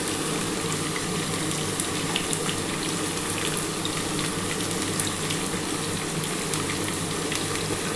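Two big chopped onions go into hot oil in a pan for a lote fish and potato jhal, giving a steady, loud, unbroken sizzle and hiss that lasts throughout with no talk.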